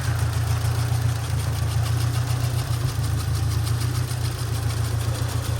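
A 1991 SAAB 900 Carlsson engine idles steadily nearby with a deep, even rumble and a faint rhythmic ticking above it; no one speaks.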